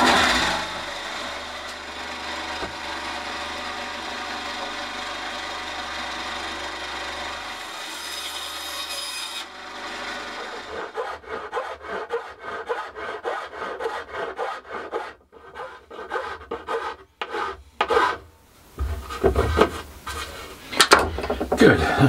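Wooden garden bench pieces are cut and rasped by hand: a smoother stretch of sawing gives way to irregular scraping and filing strokes, close and moderately loud, with no talk.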